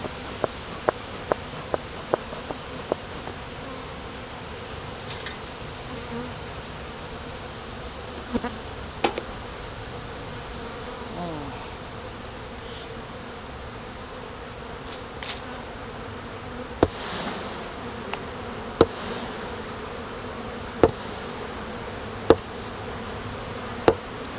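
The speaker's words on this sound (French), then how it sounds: "Tellement d'abeilles là." A swarm of honey bees buzzes steadily in a dense, continuous drone, close by, with scattered sharp clicks and taps and no talking.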